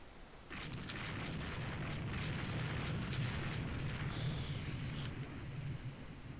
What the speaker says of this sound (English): CV fires 4 medium guns